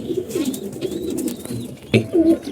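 Pigeons kept at a home loft coo nearby, several low rolling coos running together, then a louder burst near the end, with a brief knock or flutter in between and no speech.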